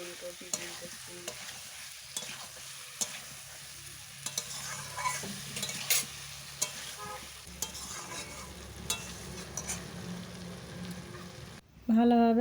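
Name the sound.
stirring fried potato, cauliflower and egg in frying masala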